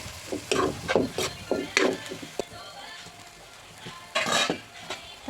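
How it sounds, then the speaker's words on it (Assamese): Greens (lai xaak) being stirred with a utensil in a cooking pan, giving irregular scraping and clinking strokes with short bursts and pauses, close and moderately loud with no talking. "দি পেলাই ধুনীয়াকৈ লৰাই দিছোঁ"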